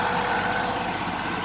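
A tractor engine drones loudly and steadily while pulling buried plows through a field, a constant close rumble with no break or talking.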